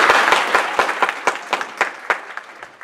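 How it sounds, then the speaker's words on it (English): A crowd claps steadily, loud at first and then thinning out into scattered claps as the applause fades away. "give Tony and her staff at the Holiday Inn, let's give them a round of applause"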